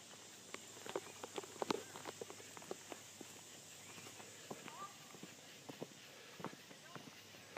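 Footsteps of a person walking outdoors on a farm where goats are kept, faint irregular steps scattered throughout over light background noise, with no talking.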